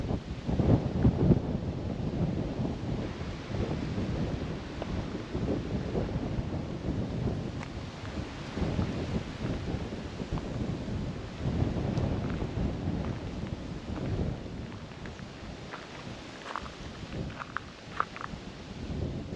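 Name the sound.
wind blowing on a mountain range lookout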